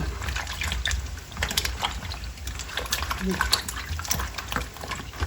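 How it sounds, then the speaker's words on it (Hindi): Water splashes and trickles into a container of karela (bitter gourds) in uneven bursts, close by, with soft clinks among the flow. "अब इनके अंदर पानी डाल देंगे"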